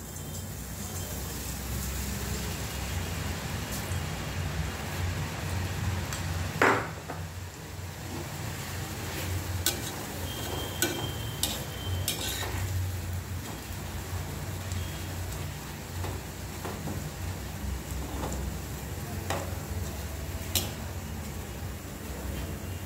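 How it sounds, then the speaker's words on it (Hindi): Gram flour boondi for motichur laddu frying in hot oil over a medium flame, a dense, even sizzle and crackle throughout with occasional sharp clinks of a strainer, close by. "इन्हें मीडियम फ्लेम पे हमें फ्राई करना है"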